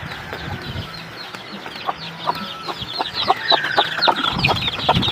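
Chickens clucking busily at feeding time, a flock of short overlapping clucks and squawks close by, growing livelier toward the end with no talk.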